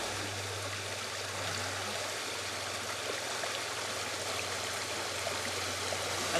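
The river Asse flows close by beside a blue house near a festival ground in Nyon, a steady, full rushing and trickling of water with a low constant hum underneath, no voices.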